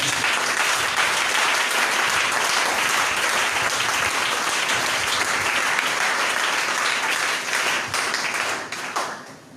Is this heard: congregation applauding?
yes